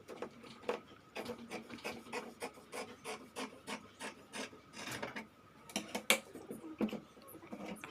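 Scissors cut out fabric for a pencil dress in a series of quiet, crisp snips and rasping strokes, close and fairly faint, with no talking.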